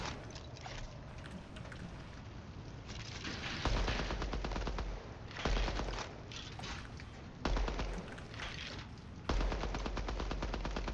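Automatic weapon fire from Apex Legends, hip-fired in long rapid bursts broken by short pauses, loud and close with a steady rattling rhythm and no talk over it.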